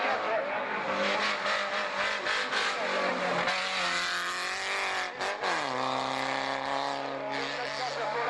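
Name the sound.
BMW race car passing during motor race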